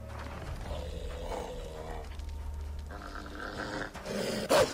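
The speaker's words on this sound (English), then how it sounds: "Fucking wolves, I'll fucking... I'll fuck you up, bitches." Wolves in the Assassin's Creed 3 game growl and snarl in a continuous low rumble, close and fairly loud, with a few sharp yelps and game effects near the end.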